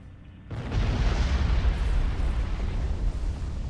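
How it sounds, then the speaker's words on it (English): A starship explodes in the Star Trek Online space game: a sudden loud, deep blast bursts in after half a second of quiet and rolls on as a sustained rumbling roar to the end, with no talking. "That was quite an explosion."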